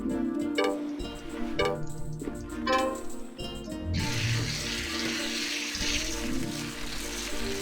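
Water runs steadily from a hose while a horse is showered in the Alexandra Ledermann riding video game, with game music and clicks over the first few seconds, then a continuous splashing stream.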